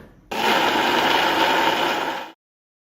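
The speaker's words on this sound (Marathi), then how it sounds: "त्याच्यासाठी आपल्याला ह्याला अजून 1-2 मिनिटं मिक्सरमध्ये छान फिरवून घ्यायचं आहे।" A mixer grinder whirs steadily as it blends batter, running loud and close for about two seconds with a constant motor pitch before cutting off abruptly.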